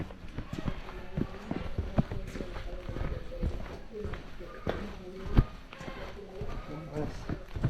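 Horse hooves clip-clop unevenly along a road in the Cuban countryside, several soft hits spread across the stretch, heard under people chatting nearby.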